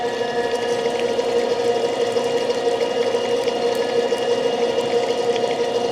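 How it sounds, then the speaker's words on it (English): Stainless steel pipe being threaded with a pipe threader, giving a steady, loud mechanical whir and grinding hum that runs unbroken throughout with a faint liquid-like hiss. "You gotta keep a little pressure on it when you're doing it at first, so it starts grabbing the threads"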